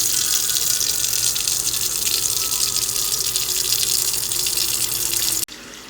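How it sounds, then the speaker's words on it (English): Cold water runs from a kitchen tap into a large soup pot, a loud, steady broadband gush that continues for several seconds before stopping abruptly. "While I'm filling that up, now we want to make sure that we start with cold water."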